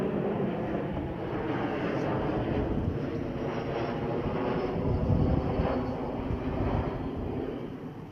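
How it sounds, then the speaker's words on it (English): An aeroplane passing overhead outdoors, a steady broad distant roar that holds for several seconds and swells slightly midway. "That's just an aeroplane passing over."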